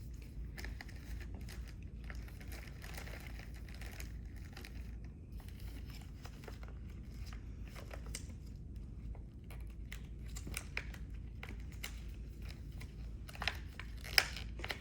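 Crisp crinkling of a plastic IV fluid bag being pulled open, with scattered sharp crackles over a low steady background hum, fairly quiet and close.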